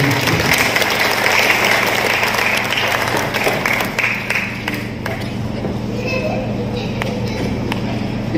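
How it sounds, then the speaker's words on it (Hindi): An audience at an award show claps loudly for artists called up on stage. Dense applause is mixed with voices and crowd chatter, and it eases slightly toward the end. "जोरदार तालियां मेरे दोनों के लिए।"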